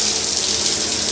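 Water gushes steadily from a fixture during a room inspection, a loud, close, continuous hiss of running flow with no speech.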